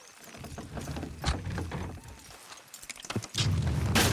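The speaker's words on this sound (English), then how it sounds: "Horses will pull it clean down." Horses in Red Dead Redemption 2 strain to pull a structure down, with scattered clip-clop hoof thuds and creaking, clattering mechanical knocks building to a louder crash near the end, with no voices.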